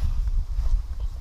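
Young horse's hooves clip-clopping on the ground in a short run of close, irregular thuds, with people's voices faintly around.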